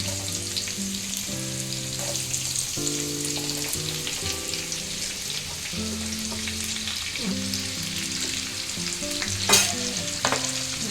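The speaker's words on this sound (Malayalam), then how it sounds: "സവാള നമുക്കൊന്ന് മിക്സ് ചെയ്യാം" Sliced onions frying in oil for a coriander chicken curry, stirred in a pan. A moderate, continuous sizzle with occasional scrapes plays under background music.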